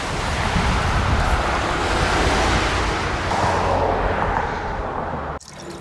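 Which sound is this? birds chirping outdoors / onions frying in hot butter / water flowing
water flowing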